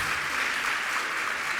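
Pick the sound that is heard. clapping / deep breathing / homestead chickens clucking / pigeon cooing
clapping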